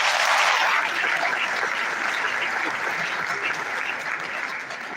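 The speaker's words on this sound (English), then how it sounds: "Please, a round of applause for the parents." Dense, sustained applause from a large audience at a veterinary oath-taking and induction ceremony, honouring the parents; steady and loud throughout, easing slightly toward the end.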